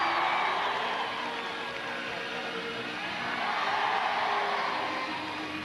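A crowd at a 1985 European BMX championship in Mours-Saint-Eusèbe applauds and cheers for a rider, forming a steady, fairly distant wash of clapping and shouts.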